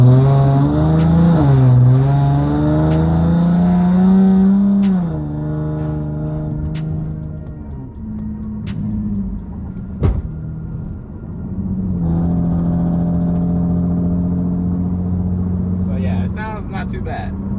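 Car fitted with test pipes in place of its exhaust section after an exhaust leak repair, heard from inside the cabin with windows up: a muffled rumbling engine note that revs up and then settles into a steady drone.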